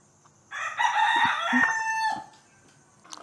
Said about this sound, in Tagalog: Sarap pakinggan ng mga tilaok ng manok.